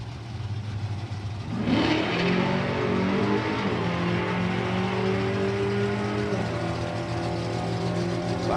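A Camaro drag racing car on a practice run roars off the line with a sharp rising rev, then holds a loud sustained engine howl that gradually shifts pitch as it pulls away down the strip.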